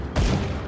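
A single heavy gunshot from a gun in Grim Dawn, a sharp loud blast with a booming low thump that rings out and decays over a fraction of a second, with no talk.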